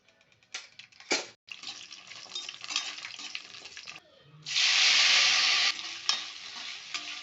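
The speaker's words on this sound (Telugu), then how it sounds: "ఆయిల్ అండి, ఎండుమిర్చి బాగా వేగాలండి." Dried red chillies fry in oil for a mint chutney, with scattered crackles and scraping stirs before a loud, bright burst of sizzling takes over, then settles back into lighter frying.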